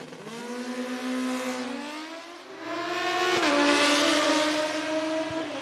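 Drag-racing motorcycles, including a Suzuki Hayabusa, scream through their gears, the engine pitch climbing in stepped rises with a shift break midway, loud and close to the strip.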